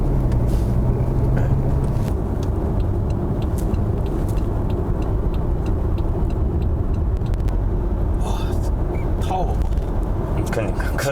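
A BMW 520d diesel car on a test drive after an AdBlue warning fault, a steady low engine and road drone throughout with brief clicks and rattles, while someone talks over it.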